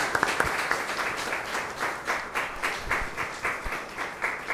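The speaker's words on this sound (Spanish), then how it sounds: "Fuerte aplauso para la Madre." Congregation applause at a Catholic Mass for the feast of Our Lady of Mount Carmel, a steady round of many hands clapping in a church, sustained and fairly close, fading in waves.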